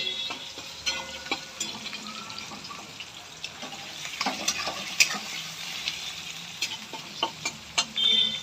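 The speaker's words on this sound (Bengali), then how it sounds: "এই পোঁটা বাজার কি জ্বালা দেখুন, ফটফট করে ফাটছে।" Food fries in a hot pan with a steady sizzle, broken by sharp crackles and pops that grow louder and more frequent toward the end, along with occasional stirring and clinking. No talking is heard.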